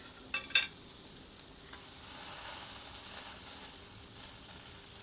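Filet mignon cooking on a hot stone, a soft continuous sizzle and hiss with a couple of brief clinks of utensils at the start.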